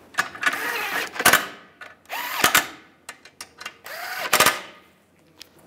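A power tool snugs up bolts on the front passenger-side CV axle of a 1998–2010 Volkswagen Beetle. It whirs up close in three short bursts, with a rising whine each time, clicks and clunks between them, and no talking.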